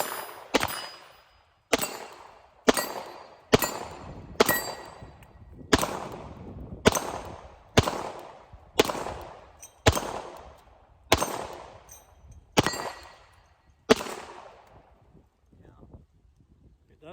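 About a dozen Beretta M9 9mm pistol shots ring out at steady intervals, each sharp crack followed by a metallic clang from steel targets and a decaying ring, loud and close outdoors.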